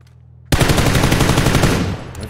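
Sustained automatic gunfire in PUBG on the Sanhok map, a loud, rapid burst of shots running continuously for nearly two seconds after a brief quiet hum.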